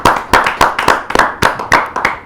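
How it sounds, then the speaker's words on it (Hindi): Audience at a kavi sammelan poetry gathering claps in short, rhythmic bursts, with sharp hand strikes repeating steadily and close, no voices over them. "एक बार पुनः जोरदार ताली के साथ हम स्वागत करें सभी का।"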